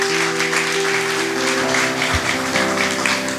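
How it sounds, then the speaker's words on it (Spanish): A congregation at a church service applauds loudly, dense steady clapping over sustained musical tones from instruments, with a brief low thump near the middle. "¿cuántos le dan un fuerte aplauso al Señor?"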